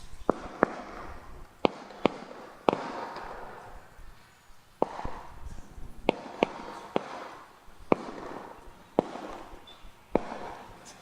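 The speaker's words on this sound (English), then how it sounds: "It's hard to concentrate with all these firecrackers going off." Firecrackers go off outdoors during a Kartik pilgrimage gathering in Puri, a dozen or so sharp, loud cracks and bangs at irregular intervals, some close and some farther off, over a murmuring background.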